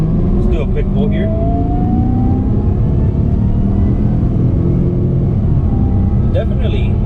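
A supercharged V8 in a 2005 Jaguar on coilovers accelerating hard, a loud steady engine rumble with rising tone through the pull, with brief voice-like bursts at the start and end.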